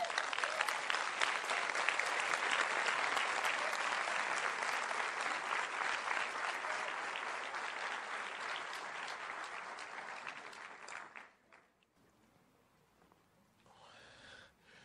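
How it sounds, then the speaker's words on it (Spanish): Congregation applause at a church sermon, dense steady clapping carried loud for about eleven seconds before dying away abruptly, followed by near silence and a faint voice at the end. "Denle un aplauso, papá."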